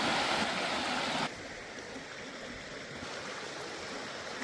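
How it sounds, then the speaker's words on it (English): A small stream flows through a jungle forest, a steady, close rush of water that is louder at first and then settles into a constant gentle babble, with no voices. "There's a little stream over there I want to gather some water from."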